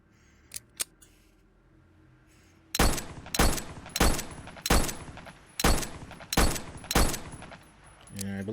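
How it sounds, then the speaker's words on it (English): Seven sharp shots from a rifle or pistol fired at crates in a VR shooter game, ringing out in a steady, evenly spaced series and loud and close, after a few faint clicks at the start. "try firing some rounds at the crates"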